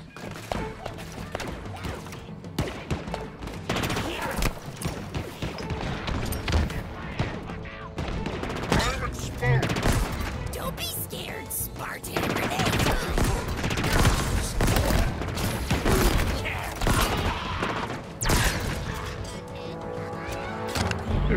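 Gunfire in the shooter game Halo Infinite, with rapid bursts and repeated shots mixed with thuds and crashes across a busy, continuous battle soundscape, partly under speech.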